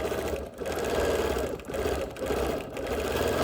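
A sewing machine stitching steadily while quilting around the petals of a Dresden plate block, a fast, even mechanical whir in close bursts with brief pauses between runs.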